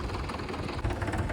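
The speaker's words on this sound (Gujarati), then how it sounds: "મયુરભાઈએ ચાલુ કર્યું છે ટ્રેક્ટર" A farm tractor engine runs at dusk in a village field, a low steady rumble with a faint rhythmic throb, fairly close and alone with no talk.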